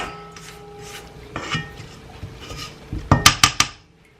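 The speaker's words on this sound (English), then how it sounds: "then I'm just going to scrape the bowl" A spatula scrapes a mixing bowl of low-carb keto chocolate chip cookie dough with soft rubbing strokes, then a quick run of four sharp knocks or taps against the bowl near the end, with no talk.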